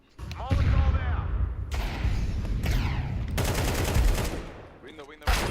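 Loud bursts of gunfire and grenade blasts in a Counter-Strike 2 match as a Molotov is thrown, a dense, continuous barrage with voices speaking over it.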